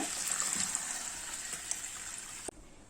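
Water pours steadily over washed green gram set to soak for dosa, a faint continuous splashing rush that stops abruptly near the end.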